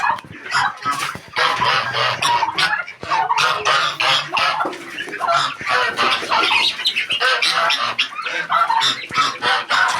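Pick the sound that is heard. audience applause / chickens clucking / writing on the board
chickens clucking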